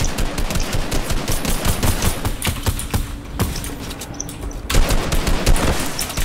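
Gunfire in a mountain-terrain shooter video game: continuous rapid shots and crackling bursts, loud and close, with a brief lull midway before the firing picks up again.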